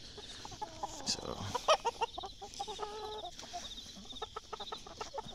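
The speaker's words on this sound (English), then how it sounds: "I locked three hens in here last night with two roosters." Hens and roosters clucking in a coop, close and fairly clear, with short irregular bursts of calls and a brief spoken word near the start.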